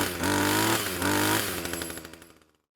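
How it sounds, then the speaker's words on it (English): A petrol garden trimmer fitted with a pruner attachment revs hard in a loud, buzzing two-stroke burst, then its engine note drops and sputters away into silence within a few seconds. "We've got the pruner attachment on the end there. As you can see, it's not moving. Give it a bit of throttle."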